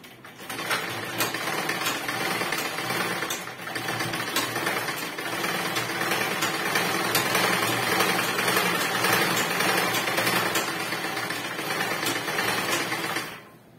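Sewing machine stitching fabric for a dress, running steadily and loud at close range with a continuous rapid mechanical whir and needle chatter for most of the span, then stopping at the end.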